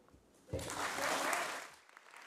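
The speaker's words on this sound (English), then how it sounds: "Can we have a big round of applause, everyone, for Joyita Gupta?" Applause from a conference audience at the end of a talk on feminist climate action, swelling suddenly after a quiet start, holding steady as a broad clatter of many hands, then fading away.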